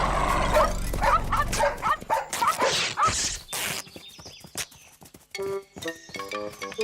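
Several dogs bark and yip in a rapid, agitated run, with whimpering mixed in, close and loud, followed by shorter scattered sounds as the barking dies down.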